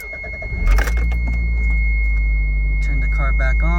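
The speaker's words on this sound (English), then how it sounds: "Turn the car back on." A Toyota MR2's engine cranks and catches with a loud low burst, then settles into a steady close idle, with a brief jingle of keys at the start.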